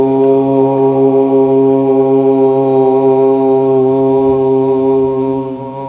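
A group chants a sustained meditative Om in a television studio, a deep, steady droning tone rich in harmonics that holds for several seconds before trailing off at the end.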